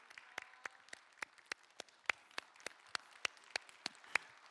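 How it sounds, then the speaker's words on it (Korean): A church congregation claps in a steady, even rhythm, sharp and fairly sparse, each clap distinct and moderately quiet, with no voices over it. "박수가 작아서 안 들어가려고 하는 것 같아요."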